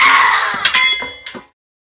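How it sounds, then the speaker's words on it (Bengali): A lid goes onto a pot of simmering lentil dal with a few metallic clinks and a short clatter, close and fairly loud, before dropping to silence. "এখন আমি একটু ঢাকা দিয়ে দেবো।"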